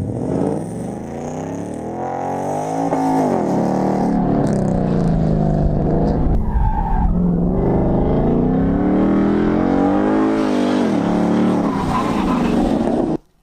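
A modified Lamborghini Huracan spins out on a race track. The engine howls loudly over sustained tire squeal and skidding, then the sound cuts off abruptly at the end.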